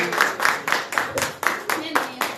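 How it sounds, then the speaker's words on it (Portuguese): A church congregation claps together in a steady rhythm, about three claps per second, fairly loud and close, with a few voices mixed in. "A salva de palmas para o Senhor Jesus."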